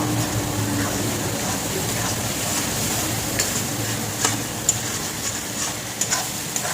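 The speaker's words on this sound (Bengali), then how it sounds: "পেঁয়াজ পোস্ততে কিন্তু আমি জল দেব না, এইভাবে আস্তে আস্তে আমি কষে নেব।" Onion and poppy seed paste stir-fried slowly in a pan without water, a steady close sizzle with scattered light ticks of a spatulaalone, no talking.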